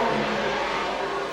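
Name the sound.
Formula One race car at Monaco Grand Prix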